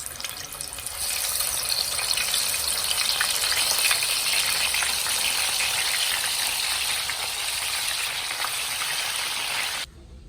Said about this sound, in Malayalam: ചിക്കന് എല്ലാം നമുക്കൊന്ന് പൊരിച്ചെടുക്കാം.